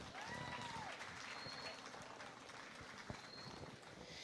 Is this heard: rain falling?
no